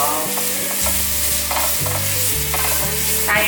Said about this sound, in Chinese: 放入香菇， 把所有食材炒香炒熟